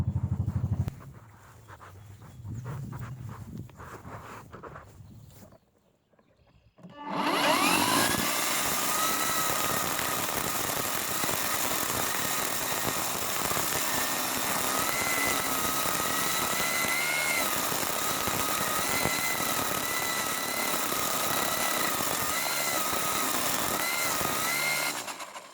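A Ryobi 40-volt battery weed trimmer whirs loudly and steadily around a flower bed, its high electric motor whine holding constant for about twenty seconds after a brief quieter lead-in with faint handling noise.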